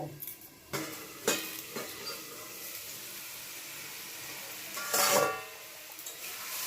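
A spoon stirring ash gourd dorma in a cooking pot, with a few distinct scraping knocks and a louder clattering stir toward the end over a quiet sizzling background.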